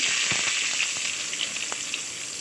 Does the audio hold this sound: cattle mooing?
no